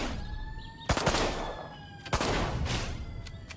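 Gunfire in the Destroy All Humans game demo: two sharp, loud shot bursts about a second apart, each cracking over a continuous bed of game music and ambience.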